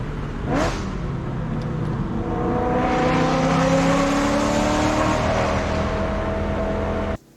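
A BMW E92 M3 engine revs up and builds to a loud, sustained roar as the car accelerates past, with a rising tone that holds steady before cutting off abruptly at the end.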